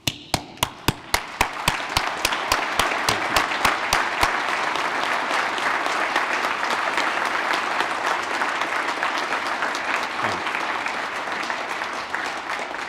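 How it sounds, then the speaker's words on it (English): Audience applause fills a concert hall at a pharmacy college's anniversary musical celebration: a few sharp separate claps at first, then swelling into steady, dense clapping from a large crowd that holds loud and even throughout. "we'll all applaud even if we can't see you"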